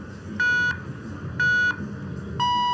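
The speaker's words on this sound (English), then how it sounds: "The usual starting beeps that we hear in cycling." Three electronic start countdown beeps at a cycling individual time trial, at a steady one-second rhythm, the last one pitched higher, sounding clearly over a low background hum.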